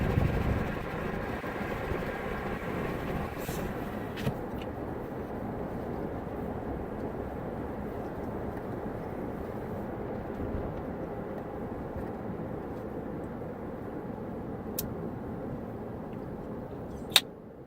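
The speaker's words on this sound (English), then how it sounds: "helicopter" A steady, droning engine rumble like a helicopter in flight holds throughout, broad and constant with a few faint clicks.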